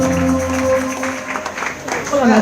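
Congregation at a church service clapping and cheering for Jesus, a loose, scattered burst of applause mixed with voices and musical tones, its energy swelling toward the end.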